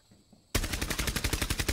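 Rapid automatic gunfire from an enemy shooter in Rainbow Six Siege bursts in loud and close after a quiet moment, a steady rattling stream of about a dozen evenly spaced shots.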